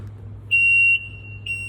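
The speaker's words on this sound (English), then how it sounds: "that, my friends, is the backup alarm" An E40FX vehicle backup alarm sounds two sharp, high-pitched electronic beeps over a low engine rumble, the second beep cut short.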